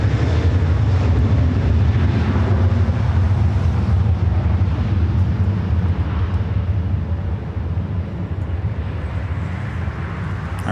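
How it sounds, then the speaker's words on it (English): A Japan Airlines Airbus A350-1000 departs LAX on a north side takeoff, its jet engines a broad, steady roar heard at a distance, mixed with wind buffeting the microphone, easing slightly toward the end. "Japan Airlines, the A350-1000 flight heading back to Tokyo Haneda, heading up here for a north side takeoff"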